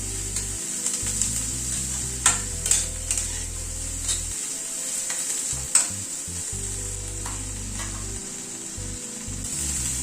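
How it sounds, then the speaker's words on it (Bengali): Chopped onion, ginger and green chilli fry in a pan for a stuffed kakrol dish with chicken filling, giving a steady close sizzle broken by a few sharp clicks and scrapes of stirring. "আদা কুচি ও কাঁচা লঙ্কা কুচি দিয়ে আর একটু একটু ভেজে নেব।"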